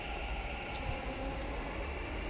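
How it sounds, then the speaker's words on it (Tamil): Bengaluru Namma Metro train arriving at Halasuru station, a steady loud rumbling roar of wheels and motors that fills the whole stretch, with no speech. "இது பாருங்கள், ட்ரெயின் வந்துகிட்டே இருக்குது, ஒன்று போயிட்டே இருக்குது."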